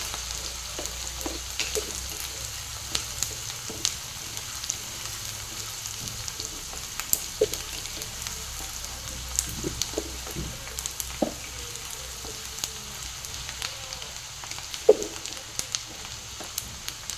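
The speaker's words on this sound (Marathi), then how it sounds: "बारीक चिरलेला कांदा कांदा छान असा परतवून घ्यायचा आहे" Finely chopped onion sautés in a pan for paneer bhurji, giving a long, steady low sizzle broken by scattered light clicks of a spatula, close and moderately quiet, no voices.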